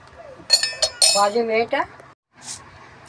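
A spoon knocks and clinks against a glass while stirring a thickened black chana sattu drink thinned with water, a few sharp ringing taps close by with a pause near the end.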